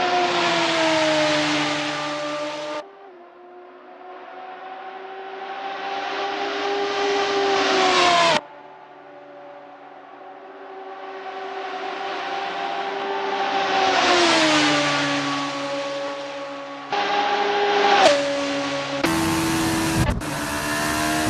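D-Max race cars on the outlap at Spa-Francorchamps in a racing video game, a close engine whining steadily up and down through gear changes, its pitch sweeping and dropping, with abrupt cuts near the end.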